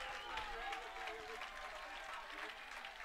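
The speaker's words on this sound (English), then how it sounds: "Everybody's up and clapping." A baseball crowd on its feet clapping and cheering during a tense full-count at-bat, a dense, continuous wash of applause at moderate distance.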